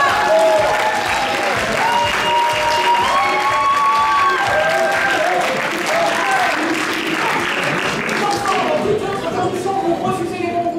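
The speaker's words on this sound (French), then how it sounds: "On va l'applaudir très très fort." Loud, sustained applause from an improv festival audience fills the room, with cheering voices mixed in and people talking over the clapping throughout.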